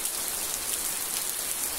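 Heavy rain pours down steadily on a rural smallholding during a storm, a dense, continuous hiss of downpour close by with no voices.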